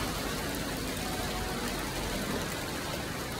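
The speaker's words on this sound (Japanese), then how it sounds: "やばい雨" Rain falls steadily and fairly loudly on an outdoor fruit-picking trip to pick pears. It makes a constant, dense hiss of drops that does not change over the whole stretch.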